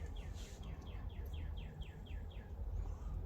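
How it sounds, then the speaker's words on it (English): Faint, quick bird chirps repeating in a steady series over a low background rumble, distant and soft, heard in a prison. "Hear them birds chirping?"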